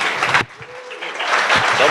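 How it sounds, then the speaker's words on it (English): An indoor audience at a cannabis business event claps loudly in a dense wash of applause, which breaks off briefly, then swells again with a voice audible underneath. "give him a big round of applause"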